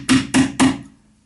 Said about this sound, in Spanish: y entonces con un martillo colocamos ahí